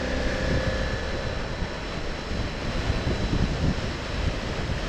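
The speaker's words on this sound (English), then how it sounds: "I don't know what strength the winds are, but it is very, very breezy." Strong breezy wind during a motorcycle ride roars steadily across the microphone, a dense, close rush with faint engine drone underneath and no voices.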